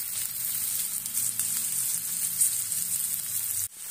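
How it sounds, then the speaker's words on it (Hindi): Onions and green chilies frying in a pan make a continuous close hiss and crackle that holds steady for several seconds before cutting out briefly near the end. "मिर्च अच्छे से प्याज थोड़े लाल होने तक भूनेंगे"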